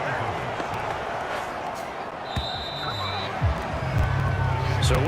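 Stadium crowd noise in an American football video game, a steady murmuring roar with scattered thumps and a few short tonal cues, continuous throughout.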